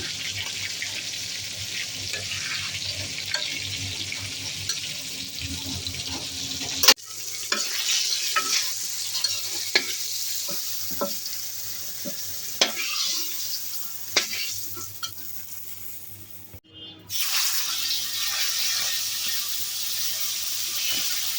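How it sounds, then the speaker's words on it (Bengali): Pieces of rohu fish sizzle in oil in a pan, a steady frying hiss with scraping spatula clicks as they are turned over, a sharp clatter and brief pause partway through. "এক পিঠ ভাজা হয়ে গেছে, উল্টা দিতেছি।"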